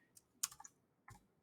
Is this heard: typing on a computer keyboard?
yes